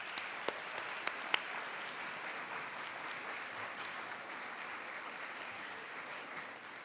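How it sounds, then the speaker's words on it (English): At a university awards dinner, a large audience applauds student leaders with steady, fairly soft clapping that carries on evenly, with a few sharper claps near the start. "can you join me in applauding all of your community of care this evening?"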